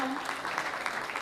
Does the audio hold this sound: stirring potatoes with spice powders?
no